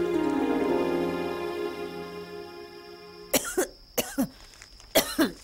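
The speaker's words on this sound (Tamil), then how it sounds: "வெறும் வரட்டு இருமல் தான்" An elderly woman's dry cough, several short harsh bursts in quick succession, close and clear, coming after a fading sustained musical tone.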